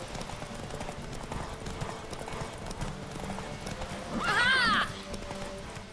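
Steady clip-clop of galloping horse hooves at a quick rhythm during a horse race in The Witcher 3: Wild Hunt, followed by a short loud horse whinny near the end.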